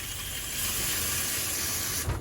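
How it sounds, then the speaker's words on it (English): A bathroom shower running, giving a steady, loud broadband hiss of spraying water that holds evenly throughout before a brief knock near the end. "make sure there's water coming out of the shower,"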